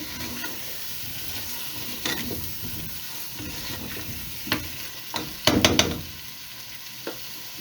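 Potatoes fry in masala in a pan for aloo gosht, with a low steady sizzle broken by scraping stirs and a louder clatter of stirring near the end.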